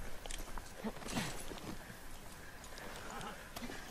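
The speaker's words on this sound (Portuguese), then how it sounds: "Vocês vão descer do cavalo." Horse hooves plod softly in The Last of Us Part II, a few faint clip-clop steps under quiet ambient game sound and low background noise.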